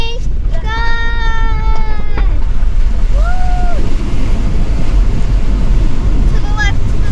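A vehicle drives through a water crossing on the Gibb River Road, making a loud, continuous rushing splash with heavy wind buffeting on the microphone. A voice lets out a drawn-out exclamation.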